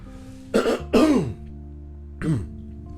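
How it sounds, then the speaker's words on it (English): Two quick, harsh throat clearings close together, then a third softer one after a short pause, close and alone without talk. "I genuinely needed to clear my throat."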